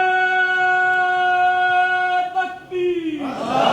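A large crowd at a religious gathering roars back in unison after a call of Nara-e-Takbir, a sudden loud swell of voices that cuts across a sustained harmonium-like drone near the end.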